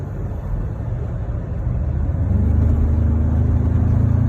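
A Ford Ranger 2.0 Bi-Turbo pickup running on palm oil accelerates into a tunnel, its engine drone rising and thickening into a steady loud low roar, with no one speaking.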